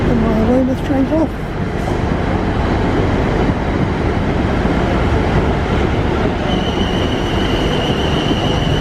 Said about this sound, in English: And my Weymouth train's off.